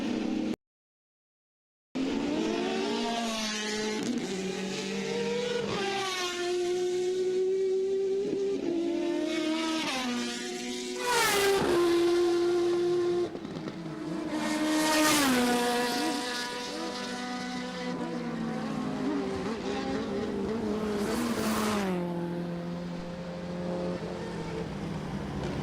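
Orange Honda Civic race car, number 47, on track at a motorsport festival, its engine revving up and down through gears for a long sustained run, loud and near with several swells as it passes and accelerates.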